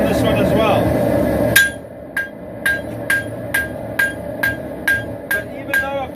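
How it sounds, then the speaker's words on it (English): Hammer blows forging the bevels on a steel dagger blade ring out as about ten sharp, evenly spaced metallic strikes, close and loud over a steady roar of forge background. "I'm actually going to forge out the bevels on this one as well."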